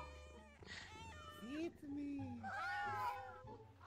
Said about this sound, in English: Ooh, cat noises.